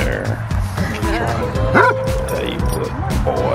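A nearby Basset Hound gives short yipping barks and whines at a Basset Hound festival while a person talks over it.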